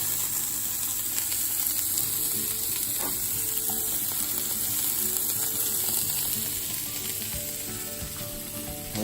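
Green onions sizzle and fry in a hot pan while an omelette is being made, giving a steady, close crackling hiss with light stirring scrapes throughout.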